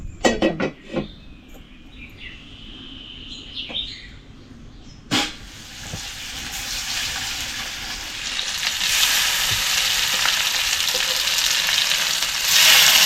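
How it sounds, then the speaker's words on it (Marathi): Fish fry on a tava set over a wood-fired stove: broadband sizzling swells in after a few sharp knocks, then holds steady and grows louder toward the end, with faint bird chirps in the background. "असे थोडे थोडे मासे तळते बघा."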